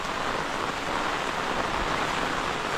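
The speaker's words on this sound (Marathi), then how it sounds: "खूप पाऊस आहे." Heavy rain pours steadily through a Konkan forest, a dense, unbroken hiss of water falling on leaves and ground, loud and close with no voices.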